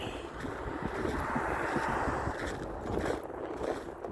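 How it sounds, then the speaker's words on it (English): Gusty wind buffets the microphone outdoors on a winter hike at Alum Creek Lake, a close, rumbling rush that rises and falls with no talking. "the wind's blowing in my eyes now"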